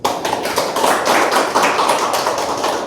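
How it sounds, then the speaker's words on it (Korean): An audience at a lecture claps together in quick, evenly spaced bursts, loud and close, filling the few seconds with no talk. "박수."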